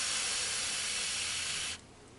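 A voice imitates a lawn sprinkler's steady whispering spray, a continuous close hiss held for under two seconds before cutting off.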